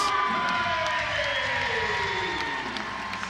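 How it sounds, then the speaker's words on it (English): Arena crowd at Scotiabank in Halifax cheering before Game 6 of the NBL Canada basketball finals, Hurricanes versus Lightning, a loud sustained roar with whoops and shouts, and a descending tone sweeping through it. "Good crowd on hand at Scotiabank, and the fans are ready for Game 6."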